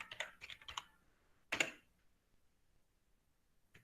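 Computer keyboard keys pressed for copy and paste shortcuts: a quick cluster of three clicks, a pause, then one louder key strike, with a faint tap at the end in a quiet room.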